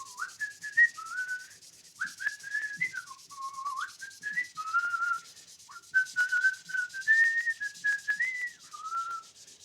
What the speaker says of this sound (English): Whistle as I work